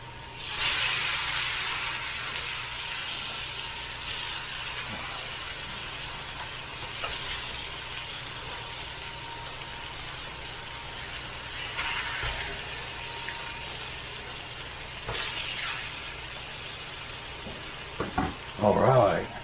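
Pork chops sizzling in a pan after being flipped, a steady hiss of frying fat running throughout, with a louder burst of sizzle at the start and occasional sharper crackles and clatter near the end.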